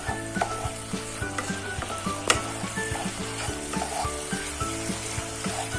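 Bengali sweet tomato chutney with melting sugar cooks in a pan, a steady close sizzle under repeated rhythmic clacks of a spoon stirring against the pan, with no voices.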